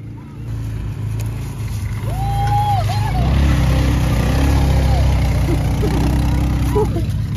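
A cheap four-wheeler ATV with a touchy throttle revs steadily nearby as its wheels spin, the engine drone rising and holding loud, with people talking over it.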